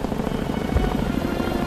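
Helicopter in the video game Syberia 3, a loud steady rotor thump and engine drone that holds throughout with a low rhythmic chop, nothing else over it.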